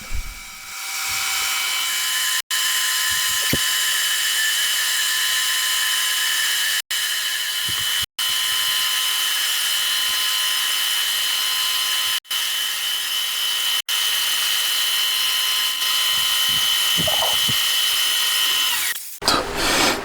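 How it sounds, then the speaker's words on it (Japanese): A homemade DOHC camshaft for an FIM152 head is machined down toward 35 mm, a steady high-pitched cutting whine running loud and continuous for about 18 seconds, broken by a few brief clicks, before stopping near the end. "まずは最初の目標値の 35mm になるまで削っていきます。"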